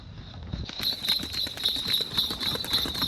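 Bullocks pull a cart along a village road, their hooves clopping in a steady, close rhythm with a constant high ringing from the cart or bells running throughout.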